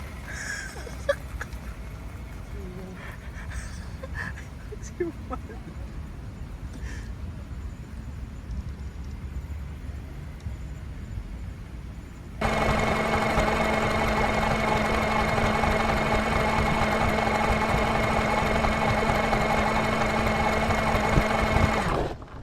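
A Cross RC SP4 crawler's electric motor starts at full throttle partway through and holds a loud, steady high whine with a constant hum until it cuts off abruptly at the end. Quiet room noise comes before it.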